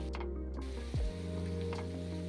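Spices sautéing in hot oil while being stirred, giving a steady close sizzle with faint clinks and a brief low sweeping tone partway through.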